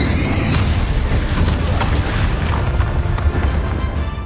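A Bombarda explosion spell in Hogwarts Legacy erupts as a loud, booming blast that rumbles on with crackling debris for several seconds.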